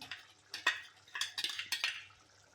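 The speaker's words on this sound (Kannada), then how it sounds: "ಕಲಿಸ್ಕೊಂಬಿಡಿ ಎಲ್ಲ ನೀಟಾಗಿ" Ground masala is worked into chicken curry in a pot, with a spoon clinking and scraping against the metal in irregular, close stirring strokes.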